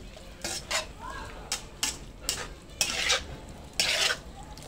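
A spatula scrapes and clatters in a pan while an eel stir-fry with tree basil leaves is tossed, quick repeated strokes over a soft sizzle, close and alone.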